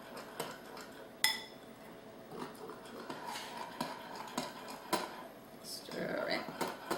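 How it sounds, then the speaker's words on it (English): Spoon clinking and scraping against a bowl while stirring a liquid raw chocolate almond bark mixture, with intermittent light metallic taps and a sharp clink, under steady talk. "And I'm going to just start stirring."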